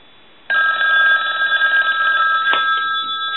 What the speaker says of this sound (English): So I'm going to ring it on the low setting right now.